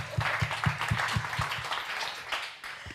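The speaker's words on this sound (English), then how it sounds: "I think that deserves an applause" Audience applause at a culture conference panel in Brussels, a modest round of clapping with a few distinct sharp claps early on, moderately faint, fading toward the end.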